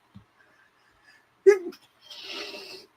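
A single sharp sneeze bursts out close by, followed by a brief breathy, noisy exhalation.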